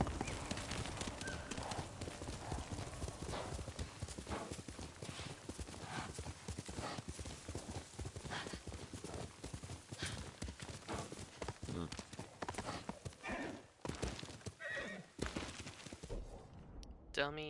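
A horse in the Ghost of Tsushima video game gallops with loud, rapid clip-clop hoofbeats that carry on for most of the stretch, and it neighs briefly along the way.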